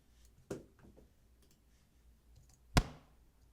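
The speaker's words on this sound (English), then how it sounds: "Whacking a head of lettuce covered with a wet towel with a stick." A stick whacks a head of lettuce wrapped in a wet towel, giving two sharp, close thuds: a lighter hit near the start and a louder, crisper one later, with quiet between.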